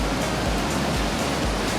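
The Rogue River roars at Natural Bridges as it rushes underneath the rock, a loud, steady broadband rush of water heard up close, with no voices over it.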